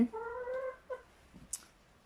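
Chickens in a coop give a few drawn-out clucks, then short calls and a sharp high squawk, close and moderately quiet, with no voices over them.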